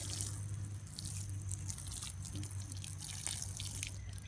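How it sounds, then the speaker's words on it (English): Garden beets watered by hand outdoors, water dripping and trickling onto soil and leaves in a steady patter, fairly quiet and close under a low background hum. "Just gonna give it some water"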